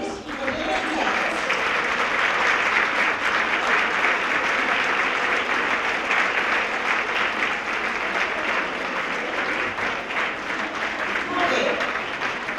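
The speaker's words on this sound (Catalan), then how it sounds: "us demano així, un fort d'aplaudiment d'ells i per tots vosaltres" Sustained audience applause at a tribute event for women textile workers in Taradell, a dense, steady clapping from a sizable crowd lasting throughout, fading slightly at the very end.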